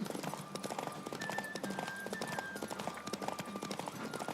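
Horse hooves pound in a steady galloping clip-clop during a race in the video game The Witcher 3, loud and continuous under a dense wash of game sound effects and music.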